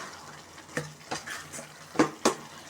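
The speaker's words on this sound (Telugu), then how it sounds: "బాగా వన్ టైం కలుపుకోవాలి" Tomato chutney being stirred in a pan over a medium gas flame, a few distinct scraping strokes at irregular intervals over a soft background sizzle, with no voices.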